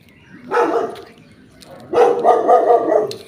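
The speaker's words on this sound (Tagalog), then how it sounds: "May aso." A dog barks twice nearby, each a short loud burst of yaps, with a pause between them and quiet background around.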